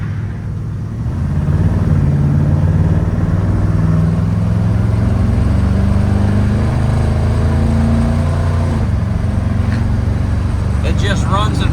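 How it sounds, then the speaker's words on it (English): A restored 1973 International 1210 4x4 pickup truck drives along with its engine running, a loud continuous low rumble that swells and shifts pitch as it pulls steadily, close and alone. "It just runs and drives so smooth, right down the highway, 60, 65 mile an hour."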